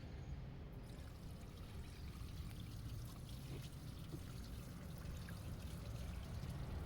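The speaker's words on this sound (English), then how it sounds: "We'll start off by rinsing off all the loose oil." Steady rushing spray of water runs continuously, loud and close, a hose rinsing loose oil off an engine, with no voices.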